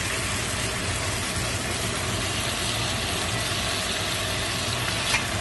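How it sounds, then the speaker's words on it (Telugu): Cumin, cloves and coriander seeds dry-roasting in a pan for a crab curry, a soft continuous crackling sizzle at an even level, with a faint clink of a utensil near the end. "కొంచెం జీలకర్ర, లవంగాలు, ధనియాలు పచ్చగా వేయించుకోండి."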